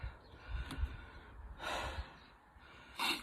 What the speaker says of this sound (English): Nice and calm with the breathing.